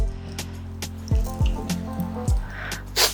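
Dry shampoo sprayed into the root area of brunette hair, heard as a few short, close hissing bursts toward the end over a steady tonal background.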